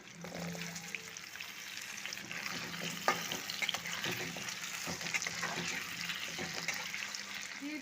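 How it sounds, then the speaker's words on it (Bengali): Potato and taro chunks frying in oil for a hilsa fish curry give a steady, close sizzle with scattered crackles and stirring sounds, and no one speaks. "এবার বাকি তেলে সবজিগুলো ভেজে নেব প্রথমে দিচ্ছি আলু দিয়ে দিলাম কচু"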